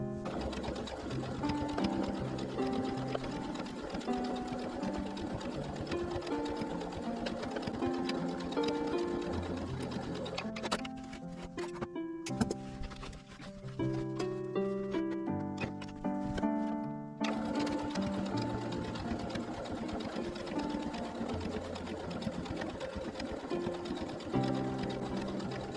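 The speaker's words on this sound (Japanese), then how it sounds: "端ミシンかけます。" A sewing machine edge-stitches a fabric kindergarten bag, running in a steady rapid whir that stops briefly in the middle and then resumes, close and alone.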